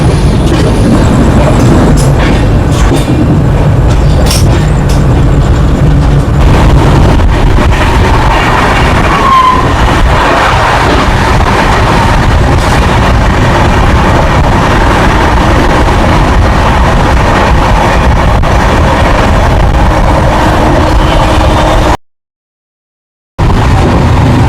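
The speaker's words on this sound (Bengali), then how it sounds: "চলছে দাদা ট্রেন, সেই স্পিড 110" An express train running from Kolkata to Balurghat rushes along at about 110 km/h, a loud continuous rumble and rattle of wheels and carriages heard from inside, with one brief dropout near the end.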